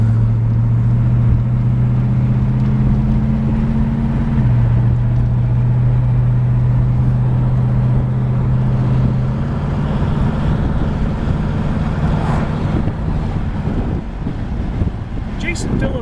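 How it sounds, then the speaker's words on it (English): A 1971 Pontiac LeMans Sport convertible with factory air conditioning drives along, its steady engine drone and road rumble heard from inside with wind buffeting, holding an even level throughout. "Test driving a 1971 Pontiac Lemans Sport convertible, factory air-conditioned car"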